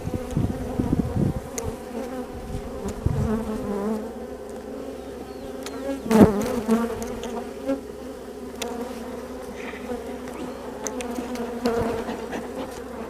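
Honey bees hum and buzz loudly around an opened, honey-smeared hive, a thick, steady drone close to the microphone with a few sharper, louder passes near the middle.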